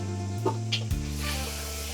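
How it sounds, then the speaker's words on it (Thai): Chicken green curry hitting a hot pot, a brief soft sizzle and stirring clatter over a steady low background hum, faint and close, with no speech. "โอ้แกงลงหม้อปุ๊บปั๊บปุ๊บปั๊บ"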